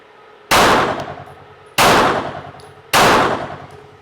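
Three separate shots from a ported compact Oz9 pistol, each a loud sharp crack with a ringing decay, spaced at roughly even intervals with no talk.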